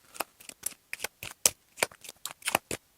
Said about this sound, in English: I will shuffle the rest of these.